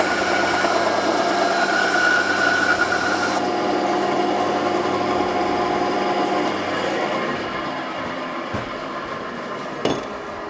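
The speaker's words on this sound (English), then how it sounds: "Just go over to the bandsaw. Just trim a little off it so we get a little more." A bandsaw trims a small piece of wood in a workshop, a loud continuous rasping whine that runs steadily, then cuts off partway through and leaves quieter room noise with a couple of faint knocks.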